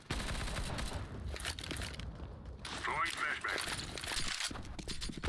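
Rapid bursts of gunfire ring out in CS:GO, shots fired through a door, sharp cracks repeating over a busy, dense game mix with voices talking throughout.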